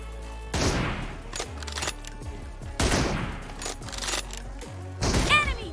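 Three booming M24 sniper rifle shots in a mobile shooter game, each a loud crack with a trailing echo, spaced about two seconds apart with no talking.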